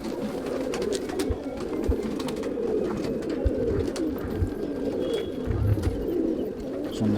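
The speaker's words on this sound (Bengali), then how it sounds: "বিশ্বের একটা পায়রা দেখাচ্ছি শুভঙ্কর দার হৃদয়ের খুব কাছের একটা পায়রা" Madrasi fancy pigeons coo repeatedly in a hobbyist's loft, a soft rolling low murmur overlapping from several birds, close and continuous, with faint chirps and occasional light knocks in the background.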